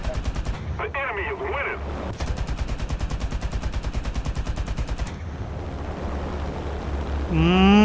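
Machine gun fire from a Tu-4 bomber in War Thunder, a long, fast, evenly pulsing stream of rounds broken by short pauses. Engine drone runs under it and a rising whine comes near the end.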